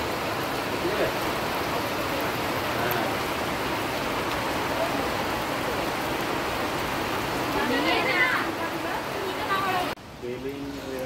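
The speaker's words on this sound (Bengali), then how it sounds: "ঝিরিঝিরি বৃষ্টি হচ্ছে।" Steady drizzling rain falls around a group sheltering outdoors in green hills, a continuous soft hiss of drops with people talking, ending in a brief quieter moment.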